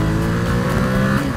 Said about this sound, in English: every time you twist the throttle